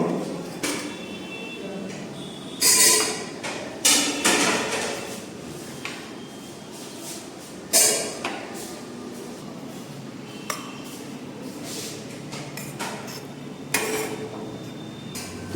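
Biryani being tipped from a container onto a plate, heard as several close clattering knocks and scrapes of utensils and packaging over a steady background hum.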